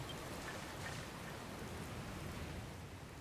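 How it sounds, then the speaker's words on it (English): Steady rain from the video game Dragon Quest Builders 2, a continuous even hiss of falling drops that stays faint and unbroken, with no voices over it. "Where did this rain come from?"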